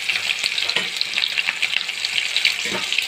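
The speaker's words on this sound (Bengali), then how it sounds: "আমি কিছু পেঁয়াজ কুচি দিয়ে দিলাম" Chopped onions sizzle steadily in hot oil in a wok, a dense crackling hiss with occasional scraping stirs, close and fairly loud throughout.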